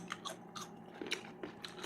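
Close, crunchy chewing of garlic with several distinct bites and munches in an uneven rhythm, quiet and with no voices.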